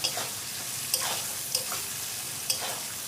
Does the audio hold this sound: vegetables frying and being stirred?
yes